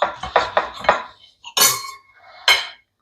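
A knife and fork cutting into a baked Sausegg, a sausage-wrapped egg with cheese, on a plate: a quick run of four sharp clinks, then two louder scrapes against the plate, close and clear.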